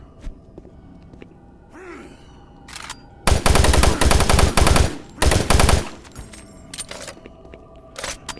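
Gunfire in the Doom 3 video game comes as two loud bursts of rapid automatic shots after a quieter stretch with brief game sounds, close and dominant, with no talk.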